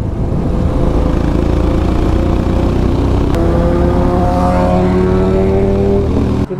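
A Royal Enfield Himalayan motorcycle with an open exhaust, ridden through a forest. The engine drones loudly and steadily, and its pitch climbs in smooth rising sweeps as the bike accelerates, with no voices.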